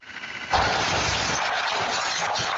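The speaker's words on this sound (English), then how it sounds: "Surveillance cameras caught a loud explosion and bright flames shooting from a home." A house explosion captured by a surveillance camera: a sudden, loud, broadband boom about half a second in, followed by a sustained roaring rush of noise that stays loud to the end.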